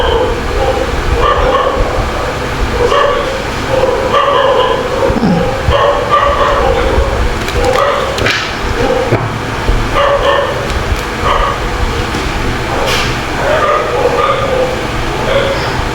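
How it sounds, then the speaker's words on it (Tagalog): Several dogs bark and yip repeatedly at close range, their bursts overlapping and continuing throughout, with a person talking underneath. "ang ingay ng mga aso ko."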